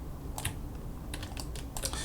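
A computer keyboard clicks with a few sharp keypresses scattered over a steady hiss, close and fairly clear, while hotkeys are held for pivot-point editing in 3D modeling software.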